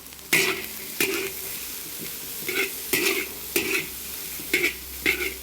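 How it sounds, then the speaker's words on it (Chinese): Green and red chili peppers are dry-stir-fried in a pan until blistered, with a soft steady sizzle punctuated by about eight sharp spatula scrapes and clanks against the metal pan. "把它炒到表皮微微带有虎皮的样子就可以了哈"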